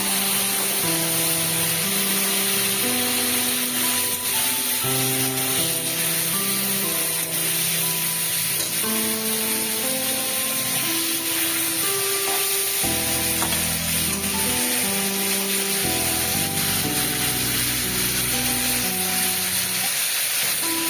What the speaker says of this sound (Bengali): চেরা কাঁচা লঙ্কা দিয়ে দিলাম তেলের ওপরে একটু নেড়ে চেড়ে